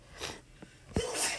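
One person sneezes in a classroom during a math lesson, a quick breathy intake followed by a sharp burst, brief and fairly close.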